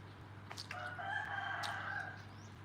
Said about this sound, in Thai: ไก่อยู่ข้างนอกนู่นไก่ข้างๆบ้าน เขาเลี้ยงไก่ เยอะมากเลย